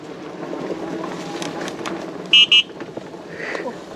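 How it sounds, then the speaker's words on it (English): A Mokwheel electric bike's horn gives two quick, bright beeps in close succession over steady road and wind rumble while riding. "I got to use my horn twice."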